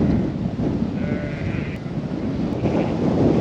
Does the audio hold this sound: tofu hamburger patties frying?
no